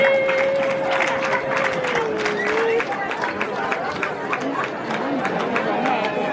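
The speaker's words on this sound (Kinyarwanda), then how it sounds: "Amashyi menshi cyane tuyabaye tubashimire." Wedding guests clap together in a lively crowd, with dense, steady applause mixed with chatter, a voice speaking and a high tone sounding above the noise.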